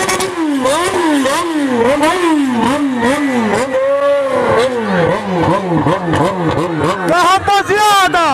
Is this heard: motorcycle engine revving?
yes